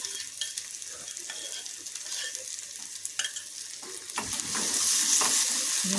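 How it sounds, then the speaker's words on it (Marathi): Onion, tomato and chickpea paste sizzle and fry in a pan while being stirred, a close, steady crackle that swells louder toward the end. "कांदा टोमॅटो मस्त परतल्या जात आहे"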